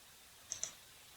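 Two quick, faint mouse clicks a split second apart during a right-click on a computer, alone against quiet background hiss.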